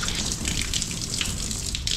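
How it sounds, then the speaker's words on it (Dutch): Hot water tap running in a dairy milk room beside a milking robot setup, a steady close hiss of flowing water throughout, no talk. "Heb ik hier een warm waterkraan."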